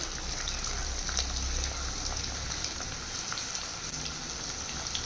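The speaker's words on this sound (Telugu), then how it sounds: "ఒక పెద్ద సైజు ఆనియన్ మనం కట్ చేసి పెట్టుకున్నాం కదా ఆనియన్స్ కూడా ఇందులో వేసేసుకోవాలి" Chopped onions frying in a pan for chicken pulao, giving off a steady close crackling sizzle that holds at an even level throughout.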